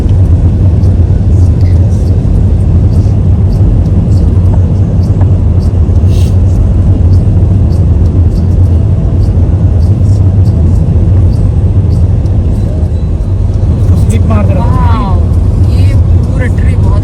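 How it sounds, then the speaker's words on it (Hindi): A car moves along a cleared snowy road in Vancouver during a big snowstorm, with a steady low engine and tyre drone heard from inside the car throughout as people talk over it. "ये रोड में कार बहुत ज़्यादा चलते हैं, इसलिए ये रोड थोड़ा क्लीन है,"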